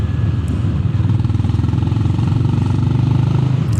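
The Honda GB 350 S motorcycle's exhaust rumbles alone, a steady deep pulsing thump heard up close while cruising, with no voices.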